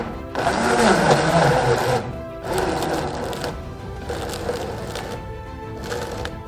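A Silver Crest commercial blender blends fufu with a loud, close motor whir in bursts. The motor drops off briefly around the two-second mark, then runs again at a slightly lower level.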